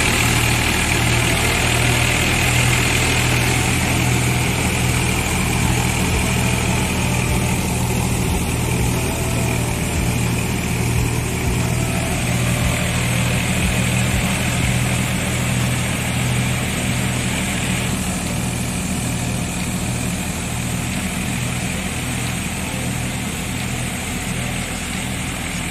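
A large 855 tractor engine runs steadily on a Punjabi farm, a loud, close, low idling drone with a constant throb that holds at even level throughout, with no speech over it.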